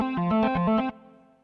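A restored, customised Hammond XB-1 organ played through reverb and overdrive, a short run of bright, distorted chords stepping up and down, then a sustained note fading out.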